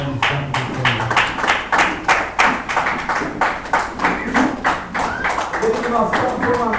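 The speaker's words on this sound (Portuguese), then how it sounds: "E a igreja assenta, aplaudindo o nome santo do Senhor." A church congregation claps during an evening worship service, with a steady run of loud, rhythmic hand claps in a reverberant room while a voice speaks over part of it.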